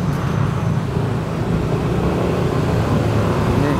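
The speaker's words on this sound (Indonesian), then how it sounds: "Ini biasanya truk-truk yang angkat sampah nih" Garbage trucks pass along a road near a Jakarta floodgate, a loud, continuous rumble of heavy engines and tyres amid general traffic noise.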